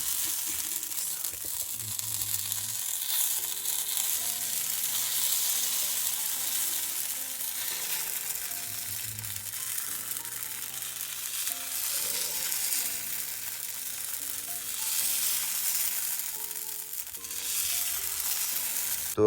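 Sweet Himachali lauta, also called chilte, frying in a pan for breakfast, giving a steady close sizzle with soft bubbling and a few faint scrapes throughout, no talk over it.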